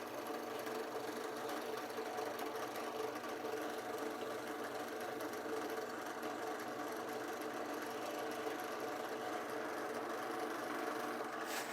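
A motorized buffing wheel burnishing a leather edge with wax gives a steady, loud mechanical whir and rub that runs unbroken throughout.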